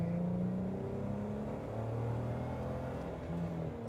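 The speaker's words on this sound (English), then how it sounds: "accelerate back to 40. It's a Jeep, so it doesn't do that very easily" A Jeep Wrangler JKU engine revs steadily as the vehicle accelerates back up to speed after a hard stop, with a continuous loud drone and a rising tonal whine that fills the whole stretch, no talk over it.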